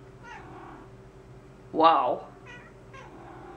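Cat letting out one clear, loud meow near the middle, with fainter softer mews before and after, while a person speaks briefly nearby in a quiet indoor room.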